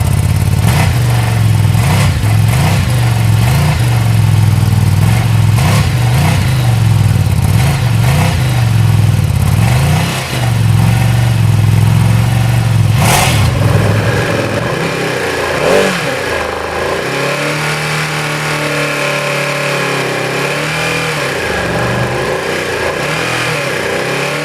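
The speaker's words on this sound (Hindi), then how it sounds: "अब चलिए सुन लेते हैं इस बाइक का एग्जॉस्ट नोट।" A 2021 Ducati Panigale V2 in Star White Silk revs near and loud, its exhaust rising and falling in repeated rhythmic pulses before settling into a steadier, quieter idle with a sharp blip midway.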